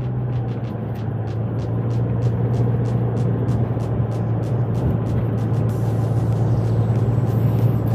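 A Nissan Pro-4X pickup climbs a hilly road at around 40 km/h and roughly 1500 RPM, its engine a steady low hum under road and tire noise inside the cab, with a faint rhythmic ticking throughout.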